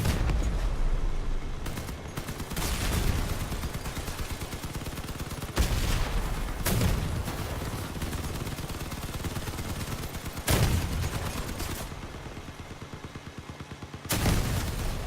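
A Crossout vehicle combat game: loud cannon booms go off every few seconds over a continuous rumble of engines and rattling gunfire, each blast sharp and broadband, with no voices.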